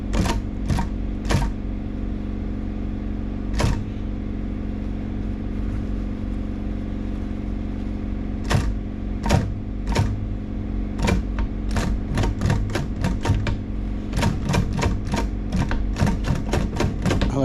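A sewing machine back stitches zippers while building covers: a steady mechanical hum carries scattered sharp clicks, then tighter runs of rapid ticking near the end. The sound is close and moderately loud, with no talking.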